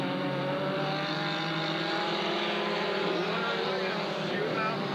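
Twelve race cars run a ten-lap qualifying heat at Southern Oregon Speedway, engines blending into a continuous loud roaring drone with shifting pitch, while an announcer talks over the noise.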